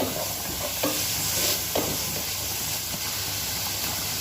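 Tomatoes frying and being stirred in a pan for restaurant-style paneer masala: a steady sizzling hiss with a few scraping stir strokes near the start, close and fairly loud, no talking.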